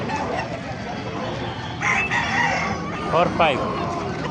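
Gamefowl roosters and hens at the Bocaue tyangge market: a rooster crows clearly, with clucking from other fowl over a dense, steady murmur of crowd noise and people talking.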